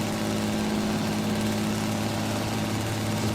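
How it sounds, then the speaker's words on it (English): A rough, rumbling truck engine in American Truck Simulator runs steadily nearby with a gritty, staccato exhaust note that holds constant throughout, no voices present. "this engine just sounds so rugged and so awesome"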